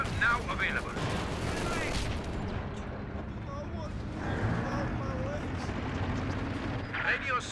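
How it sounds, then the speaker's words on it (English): MG42 machine gun fire in the strategy game Company of Heroes 2, rattling bursts and battle noise running continuously beneath a commentator's talk. "That's MG42."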